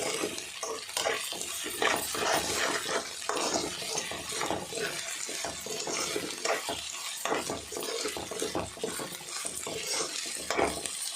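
Onions and ginger-garlic paste fry and sizzle steadily in a pan, with a spoon stirring and scraping through the crackle; close and continuous, no talking.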